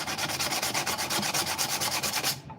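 Rapid back-and-forth rubbing of 80 grit sandpaper on a light housing, about a dozen even rasping strokes in quick rhythm, close and fairly quiet, stopping abruptly near the end.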